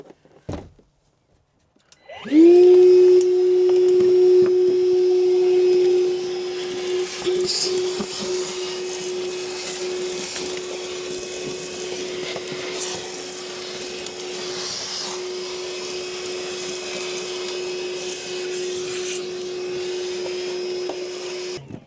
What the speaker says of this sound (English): we got the vacuum cleaner